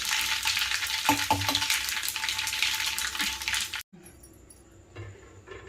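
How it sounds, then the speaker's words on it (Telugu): Half a spoon of asafoetida hitting hot oil for lemon pickle gives a loud, steady close sizzle with a few clinks of a spoon, then cuts off abruptly, leaving a faint lower hiss. "ఇంగువండి ఒక అర స్పూన్ వేస్తున్నా."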